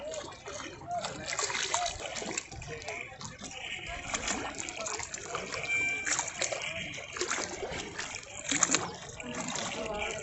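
Sea waves wash and splash continuously along a small island beach, a steady broadband churn of water with crowd voices and chatter mixed underneath throughout.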